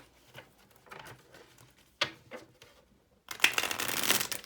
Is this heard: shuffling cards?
yes